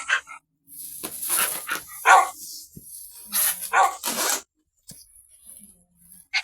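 Several tamed dogs bark in Minecraft Bedrock Edition, a run of sharp game barks and yips in bursts, loud and close, with short gaps between them and no talk.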